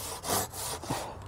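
A Japanese Kataba Takagi or Zetsaw pull saw rasps through fine-grained wood, with three or four quick back-and-forth strokes close up, no voices.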